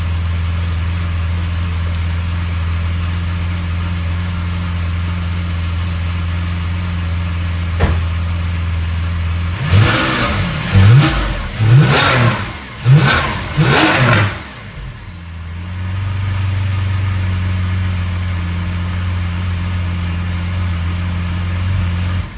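A deep idling exhaust rumble from a Lamborghini Aventador SV Roadster V12 breaks into several sharp, loud revs in quick succession, then drops back to a steady low idle.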